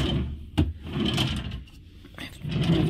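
A storage drawer in a nightstand of a Ruby Princess mini suite cruise cabin gives a sharp knock as it slides, then soft rustling and a second muffled slide, close by in a quiet room.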